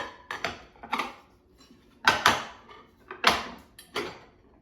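Air-fried cornbread is turned out of the fryer basket, giving a handful of sharp clatters and knocks in irregular clusters, close and moderately loud, with quiet gaps between them and no talking.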